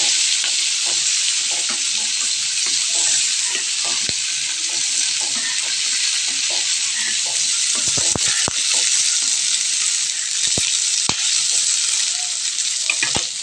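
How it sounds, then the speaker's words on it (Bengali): Chopped onion, tomato and green chilli frying in a pan, giving a steady, loud sizzle throughout with scattered clicks and scrapes of stirring, no talking. "টমেটো কুচি আর কাঁচা লঙ্কা এইভাবে দিয়ে ফ্রাই করব"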